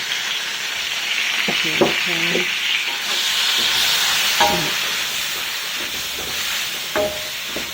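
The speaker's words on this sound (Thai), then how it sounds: "ผัดให้มันหอมกลิ่นกระทะ" Vegetables stir-frying in a wok for Japanese curry, a loud continuous sizzle and hiss close by, with scraping spatula strokes and clanks at intervals, no talk.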